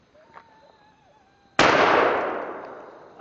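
A single loud gunshot from a Hi-Point .40 pistol cracks out sharply after a quiet stretch and decays over more than a second, recorded close by outdoors.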